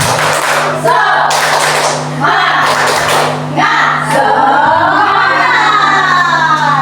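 A group of children in a classroom claps loudly in several rhythmic bursts separated by short pauses, followed by the crowd of voices calling out together.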